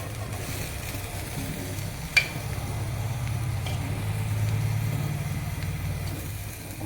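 Boiled tapioca with turmeric hits a hot pan and is stirred, giving a steady low sizzle with a soft scrape or clink near the start, continuing evenly without talk.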